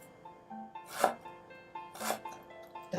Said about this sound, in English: I'm going to cut some ginger julienne for the sauce